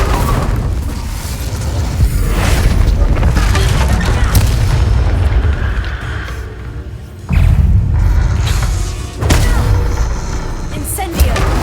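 The Incendio fire spell is cast during combat in Hogwarts Legacy: loud, repeated booming blasts and whooshing bursts, near and heavy, with short gaps between casts and a voice speaking over the fight.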